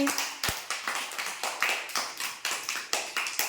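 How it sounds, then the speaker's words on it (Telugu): Children clapping together in an anganwadi classroom, a rhythmic run of about a dozen crisp, fairly loud claps at an even pace with no talking. "క్లాప్స్ కొట్టండి మోక్షకి"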